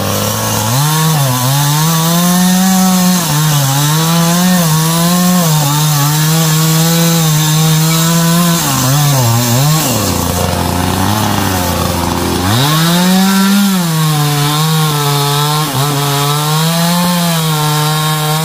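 A chainsaw with a dirty, dusty fuel filter runs steadily at high pitch, then bogs down to a low sputter for a couple of seconds before revving back up, loud and close throughout.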